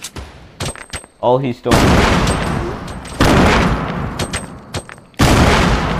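Fortnite gunfire from a season 4 match: loud bursts of rapid shots and booms come in several clusters, with a brief excited voice between them.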